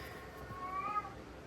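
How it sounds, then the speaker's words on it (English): A cat in heat gives a single drawn-out, rising meow, fairly close and clear over a quiet background with no talking. "Well, I mean, to be fair, she's meowing."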